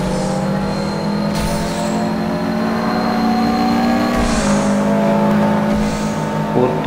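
Racing car engines from CarX Highway Racing hold a steady, loud drone throughout a knockout race, with shifting pitch as gears change and occasional whooshes of passing traffic, no talk.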